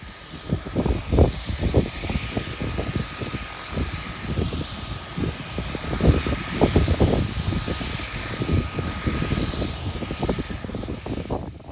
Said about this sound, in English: she has to taxi right down to the far end of the runway and turn round so that she can take off into the wind